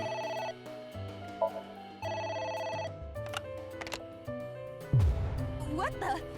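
A telephone rings in the video game AI: The Somnium Files, a repeating electronic ringtone pattern in short bursts over game music, followed by a louder noisy hit near the end.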